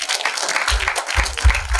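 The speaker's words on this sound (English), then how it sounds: "I'd like you to give another round of applause to JC Muyonju" Audience applause at a legal summit: a burst of clapping from a crowd, fairly close and steady, with a few low thumps mixed in.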